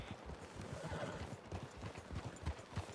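Horse hooves clip-clop steadily nearby, and a horse lets out a brief whinny, in the video game Red Dead Redemption II.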